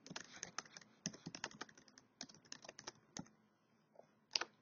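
Quick, close clicking of a computer keyboard as text is typed, uneven bursts of keystrokes with brief pauses in a quiet room.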